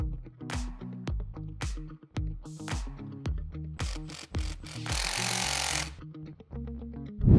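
Power tool tightening bolts on a transmission mount during an Audi RS3 engine swap into a VW Golf R, with repeated short rattling impact bursts, a longer sustained whir midway, and pauses between pulses, close and loud.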